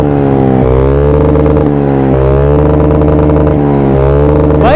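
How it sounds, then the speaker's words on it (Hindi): A mini ZX10R superbike revs loudly and close during a wheelie, its buzzing engine climbing in pitch, dropping and climbing again in repeated throttle surges with no pauses. "वो देखो दाइज मिनी ZX10R पे व्हीली"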